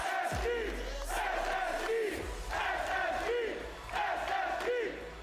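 Large arena crowd at a Rocket League RLCS event in the Dickies Arena, chanting in rhythmic waves with repeated swells of cheering, heard from a distance and fairly faint.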